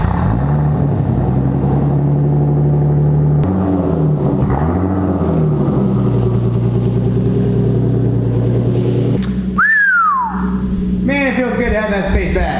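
A 2JZGTE-swapped Lexus IS300 project car idles and creeps forward under its own power, its engine rumbling steadily close by, with a couple of rising whines near the end.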